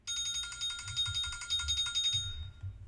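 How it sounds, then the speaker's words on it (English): A phone rings with a rapid trilling electronic bell, buzzing steadily for over two seconds before cutting off, fairly close and clear with no talk over it. "My phone's ringing."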